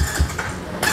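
A 125 cc ATV quad bike turns over on its electric starter, giving a short, close mechanical churn with rhythmic low pulses that lift slightly as the engine begins to catch.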